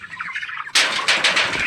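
Poultry on a farm flock calling, a quieter stretch of bird chatter giving way to a loud, dense burst of clucking and gobbling-like calls close by.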